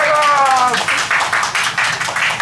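A few people clap briefly at a Mōko Tanmen Nakamoto ramen shop, a quick run of claps heard together with a voice that speaks over the start.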